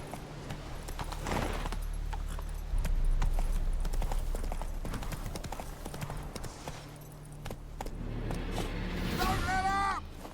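The horse Roach's hooves clip-clop in The Witcher 3, a steady rhythmic trot over ground with a brief whinny near the end, while a voice talks over it.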